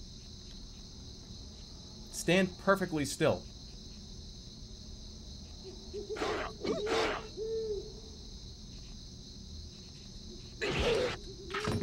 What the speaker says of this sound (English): The crickets and the owl.